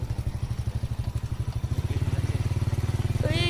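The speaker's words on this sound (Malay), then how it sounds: "Ini motor bawa masuk" A motorcycle engine putters nearby in a rapid, even thumping rhythm that speeds up as it revs, with a brief squeal at the end.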